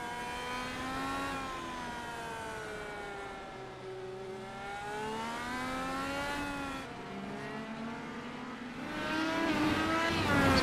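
IndyCar race cars lapping Mid-Ohio in a sim racing game, their engines droning and rising and falling in pitch through gear changes, steady and fairly loud throughout with no talk over them.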